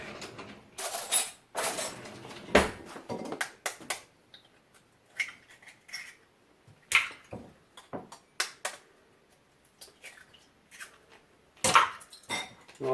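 A fork clatters against a bowl while beating eggs for an egg wash for panko fried shrimp, giving irregular clinks and scrapes in bursts with quieter gaps.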